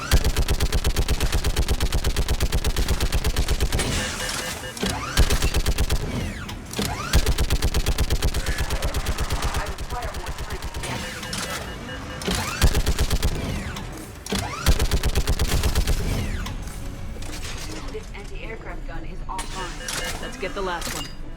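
Gas turret fire from Mass Effect 3 hammers almost without a break, loud rapid bursts with brief gaps and heavy combat noise, while voices talk over the shooting.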